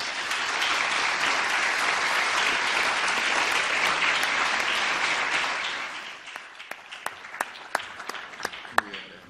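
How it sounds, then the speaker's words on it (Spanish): A conference audience at a judicial dialogue on inter-American human rights applauds, a dense, full round of clapping that thins after several seconds into scattered individual claps. "Para todos ellos pido un fuerte aplauso."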